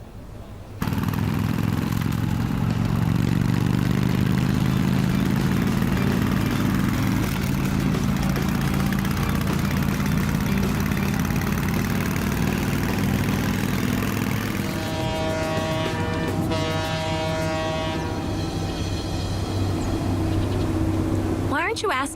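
A motorbike engine starts up abruptly and runs with a steady, loud drone, shifting pitch near the end, while voices speak over it.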